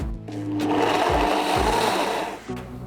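A blender pulses cauliflower with squeezed-out roasted garlic, its loud motor whirring in short bursts that rise, cut out and restart, with no voices.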